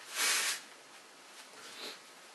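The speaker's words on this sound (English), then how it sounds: "I'm just blowing my nose real quick" A single loud, hissing nose blow near the start, then a softer snuffling breath a moment later; no talking.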